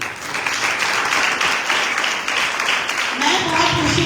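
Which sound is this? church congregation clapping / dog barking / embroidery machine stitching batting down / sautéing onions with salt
church congregation clapping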